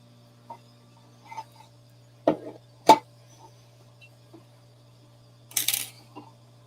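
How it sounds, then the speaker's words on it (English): A screw being loosened on a Monport GI60 MOPA fiber laser during setup: a few sparse, close metallic clicks and taps with pauses between, ending in a brief scraping rustle, no talk. "Let me just take this screw out a little bit further."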